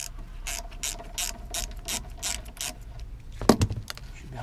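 Ratchet wrench undoing brake caliper bolts, a rapid series of close, crisp clicks in rhythmic bursts followed by a sharp metallic clank.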